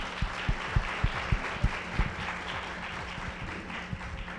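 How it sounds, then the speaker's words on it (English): A small audience at a founder talk with a former SendGrid CEO gives a round of applause, opening with a run of distinct, evenly spaced claps that fade into scattered, quieter clapping. "we'll just give a big round of applause."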